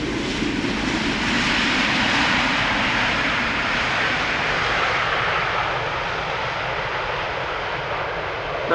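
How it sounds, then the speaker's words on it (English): Jet engine roar from an Embraer E2 airliner inbound from Hamburg, landing on the Polderbaan runway at Amsterdam Schiphol Airport, a loud steady rumble and hiss held throughout without fading, with no talk. "The E2 from Hamburg is coming to Polderbaan, so this is once again the only runway for arrivals."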